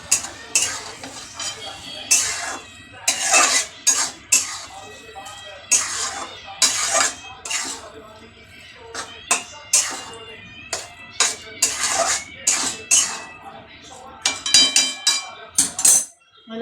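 Spoon stirring and mixing salted food in a metal pot while it fries, giving irregular scraping clinks and clatters in bursts with sizzling between them, close and fairly loud.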